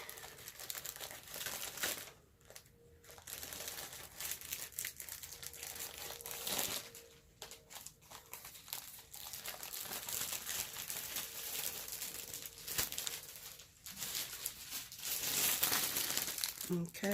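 A gift bag is pulled from plastic packaging with steady crinkling and rustling up close, broken by a few brief pauses and growing louder near the end, with a voice speaking over parts of it.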